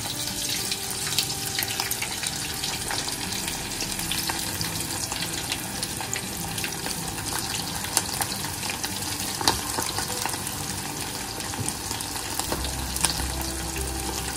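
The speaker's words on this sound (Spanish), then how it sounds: "Ya vamos a comenzar a pasar el aceite." Coconut shrimp fry in hot oil with a dense, steady sizzle and crackle that runs throughout, close and loud, with no voices.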